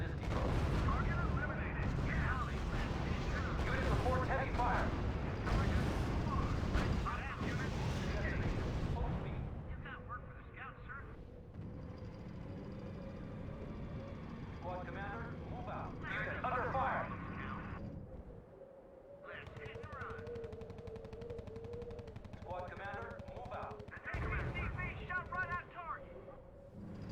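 Heavy gunfire and artillery roar from a World War II strategy game battle on Utah Beach on D-Day, with dense booms and blasts at first, then scattered shots and crackling fire under game voice lines.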